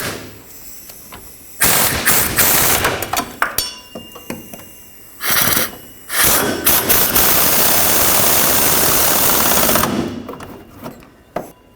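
A power tool, likely an impact wrench, snugs up rear shock mounting bolts on a 2003-2021 Chevrolet Express van, with sharp rattling bursts and a long sustained hammering run, separated by quiet gaps and clanks.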